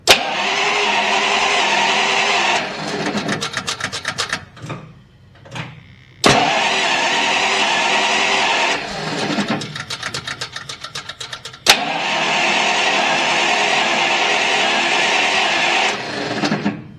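A 1938 Buick engine with dry carburetor bowls cranks in long loud bursts, starter chugging rhythmically, with brief pauses between three attempts; close and dominant, no talking.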